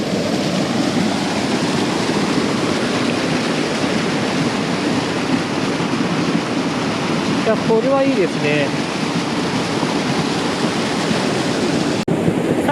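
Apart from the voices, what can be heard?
water rushing at a small waterfall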